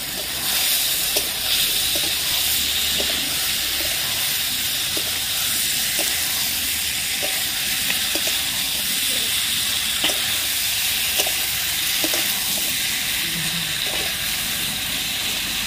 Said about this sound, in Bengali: এবার দিয়ে দেবো ভেজে রাখা আলু, আলুটা দিয়েও ভালোভাবে মশলার সাথে কষিয়ে নেব।